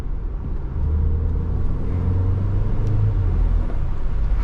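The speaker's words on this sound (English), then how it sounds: "Okay, let's go and give it a bit of an acceleration." A Porsche Macan accelerates, its engine a steady low rumble that swells after the first second and holds a deep drone heard from inside the cabin.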